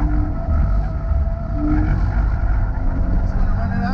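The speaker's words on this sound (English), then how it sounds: "Trying to use more of the front end to toss the car around." A car is driven hard on an autocross course at a solo event, its engine giving a steady, close, growling rumble that holds under load throughout.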